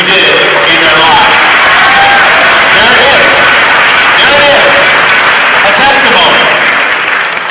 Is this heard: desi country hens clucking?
no